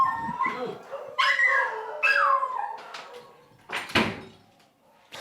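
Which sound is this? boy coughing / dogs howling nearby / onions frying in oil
dogs howling nearby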